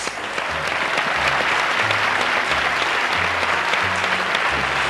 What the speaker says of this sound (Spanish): La enhorabuena y el aplauso de todos.